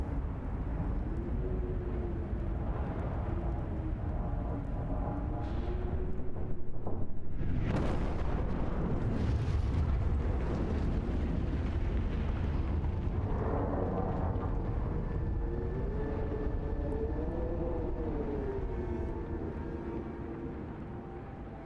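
Winterhome collapses in the video game Frostpunk, a long, loud, rumbling explosion with a sustained roar and a sharp blast surge partway through, fading slightly at the end.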